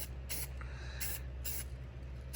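Spray can of primer sprayed onto bare metal of a truck side step, three short hissing bursts close by over a low steady hum.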